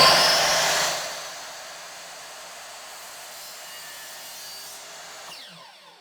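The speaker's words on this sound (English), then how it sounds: "So I'm going to use a miter saw that I've got to do mine" Miter saw cutting a wood blank for a turned key ring pocket knife: a loud whining blade pass for about a second, then a lower steady spin-down hum that fades out.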